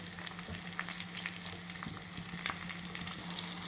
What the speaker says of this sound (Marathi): टमाटर टाकून घ्यायचं टमाटर पण छान भाजून घ्यायचं